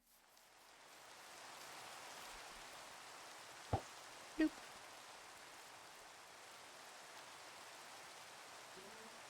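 Rain falling in the Minecraft video game, a soft, steady hiss that holds evenly throughout, with two brief sharp clicks partway through and a short spoken word.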